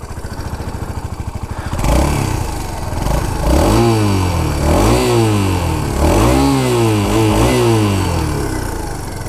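A 2016 Suzuki VanVan 200 motorcycle cranks with a rapid starter chatter, catches, then revs up and down several times in loud, close throttle blips before settling into a rough idle.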